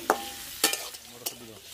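Capsicum stirred in a hot pan alongside lightly boiled vegetables for a rustic village-style paneer dish, with three sharp scraping strokes over a soft, steady sizzle.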